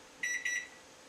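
A microwave oven timer beeping as it is set, two short pairs of bright electronic beeps, close and fairly quiet against a faint room hum.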